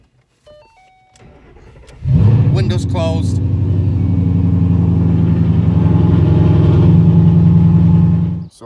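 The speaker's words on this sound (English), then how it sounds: "So this will be cold start from inside the car." Cold start of a Ford Boss 302 V8, heard from inside the car: a brief cranking, then the engine catches with a loud surge and settles into a steady, rumbling high idle. A person speaks briefly before it fires.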